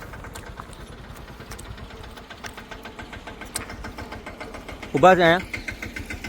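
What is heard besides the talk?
small tractor engine passing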